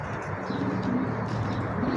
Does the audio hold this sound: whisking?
no